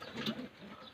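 Soft, low cooing of a Batik pigeon close by, a brief throaty murmur over faint background noise.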